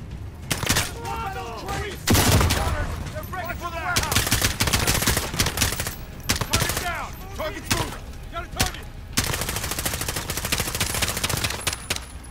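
Rapid gunfire and machine-gun bursts in the Call of Duty: Modern Warfare video game, loud and close, with repeated volleys and short pauses, overlapped at times by voices.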